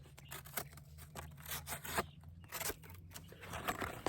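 A BPS Savage utility knife slices through cardboard in a series of rough, tearing strokes, close and crisp, with scraping bursts and short pauses between cuts.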